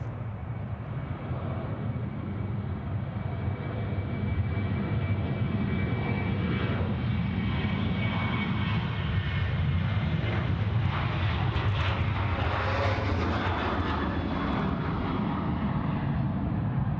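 Aircraft engines at Sydney Airport roar in a loud, sustained rumble that swells and shifts in pitch as a plane moves past on or near the runway, with no voices over it.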